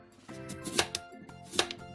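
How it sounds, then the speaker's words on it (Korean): A knife cutting radish into thin strips by hand on a board, producing a few crisp, close chopping taps in an irregular rhythm, alone in a quiet kitchen. "무를 얇게 채 썰어주세요"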